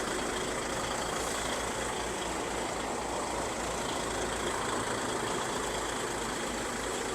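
The diesel engine of a DAF 95 Euro 3 truck tractor, recently overhauled and leaking slightly, idles with a constant low rumble and steady mechanical drone, close by and unbroken for the whole stretch.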